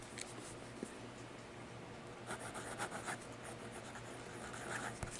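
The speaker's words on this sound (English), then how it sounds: "Let's try the upside down writing." A Lingmo Lorelei fountain pen writes upside down on paper, making faint, soft scratching and rubbing strokes close to the paper in a quiet room, with no talking.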